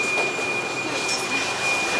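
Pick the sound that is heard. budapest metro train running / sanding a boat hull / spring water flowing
budapest metro train running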